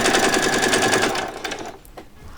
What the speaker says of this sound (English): I'm going to just keep it at that 1/4 of an inch and carry on sewing all the way around.